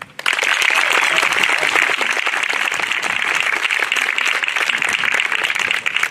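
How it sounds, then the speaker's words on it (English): An audience at a high school JROTC annual awards ceremony applauds the first-year Cadet of the Year with dense, steady clapping that starts abruptly and holds loud and even for about six seconds. "Please give a large round of applause for our first year Cadet of the Year"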